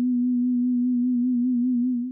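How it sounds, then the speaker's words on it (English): A steady synthesizer sine tone, its pitch gently wobbling under a much slower sub-audio sine wave, holds a pure, constant loudness alone before fading at the very end. "Then he modulated its frequency with a much slower sub-audio rate sine"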